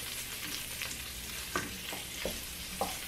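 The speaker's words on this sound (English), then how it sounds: "Kind of sweating these, frying these a little bit." Tripe sizzling in a frying pan with guanciale and alcohol, a steady close crackle and hiss broken by a few louder spatters and stirring clacks.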